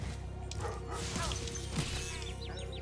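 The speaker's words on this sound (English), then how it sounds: "the dog jumped on me" A dog in the video game Spyro Reignited Trilogy barks and yips, with whimpering cries and a brief crash as it jumps on the player, several short calls over steady game ambience.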